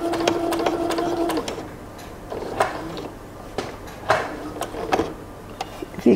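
Sewing machine stitching a pair of drawstring pants, a steady mechanical whir at the start giving way to intermittent clicks and short bursts as the fabric is stopped and turned at a point.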